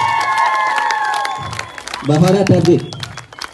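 A classroom of fourth-grade girls at an exam results announcement breaks into brief, scattered clapping after someone speaks. His voice continues around the applause.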